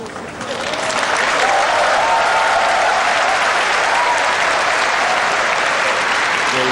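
Sustained, loud applause from a crowd at the 2004 World Pool Championship quarterfinal, swelling within the first second and holding steady as a dense wash of clapping.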